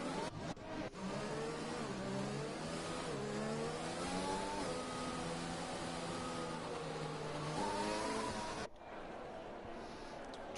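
Race car engines from the F1 video game revving and shifting through gears on the formation lap in Hanoi, a steady, loud onboard drone with rising and falling pitch, followed by a quieter change of scene.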